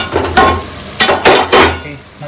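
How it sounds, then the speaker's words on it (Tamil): Spicy mint beef sauce in a pan for a Thai dish, bubbling and stirred with a few clattering utensil strokes in bursts, close and fairly loud, with no talk over it. "நல்லா கொதிச்சிடுச்சு."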